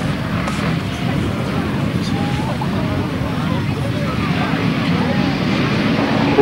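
Motorcycle engines on a 1991 grasstrack racing start line, revving together as the race is about to begin; a dense, steady, loud drone with low rumble that holds for several seconds.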